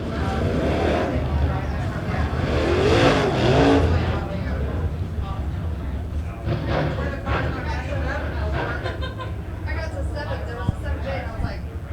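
Late model race cars on the track at Springfield Raceway rumble and drone steadily through a heat race, engines swelling as they roll into the turns, heard beneath continuous commentary.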